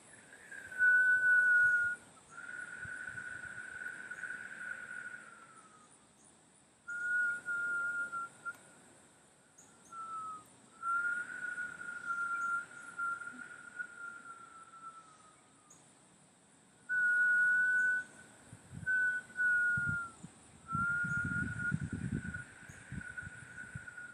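A thin, steady whistled tone repeats in several sustained bursts with short pauses between, fairly quiet, with a breathy rush underneath, from a yoga breath whistle exercise done with arms overhead.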